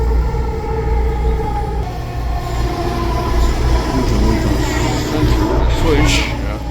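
A train rumbles steadily through Lougheed Town Centre station, where passengers transfer to the Evergreen Line, with a loud low roar throughout and a brief high wheel squeal near the end; faint voices sit under the noise.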